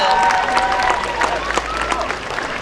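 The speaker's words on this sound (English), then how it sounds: "Let's give a loud applause, y'all." Festival crowd at the Northern California Cherry Blossom Festival in Japantown applauding the cherry blossom princesses, dense steady clapping throughout with cheering and voices mixed in, loud and close.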